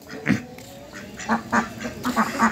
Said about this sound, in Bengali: নিজস্ব পোষা হাঁস